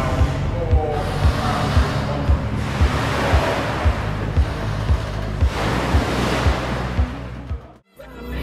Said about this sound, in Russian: Эта установка способна генерировать разные виды океанических волн и помогает ученым улучшить исследования в области волновой энергетики.